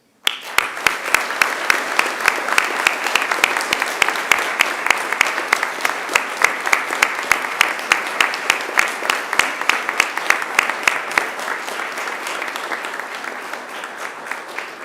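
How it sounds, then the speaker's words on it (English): A large graduation-ceremony audience applauds continuously, sustained clapping from many hands that stays loud and even before thinning slightly near the end. "I'd like you to join me in giving them a most almighty round of applause."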